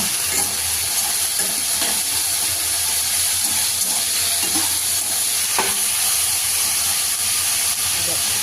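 Vegetables fry in a pan with a constant loud sizzle and hiss, broken by occasional soft scraping knocks as they are stirred; faint voices sit beneath the frying.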